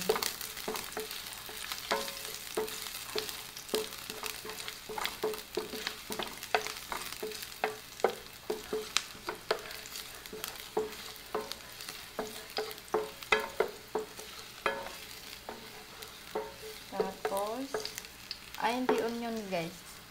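Onion and garlic fry in a pan with a quiet continuous sizzle, punctuated by frequent sharp taps and scrapes of a utensil stirring, steady over a long stretch.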